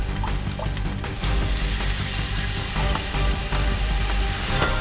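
Sesame oil sizzling and crackling in a very hot wok, a loud, continuous frying hiss with a low rumble underneath and occasional spitting pops.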